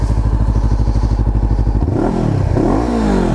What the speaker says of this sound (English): Would you like to give it a little rev?